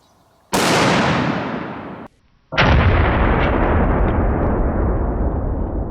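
A Barrett .50 caliber rifle fires two booming shots during a torture test, each a loud blast with a long rolling echo, separated by a brief silence.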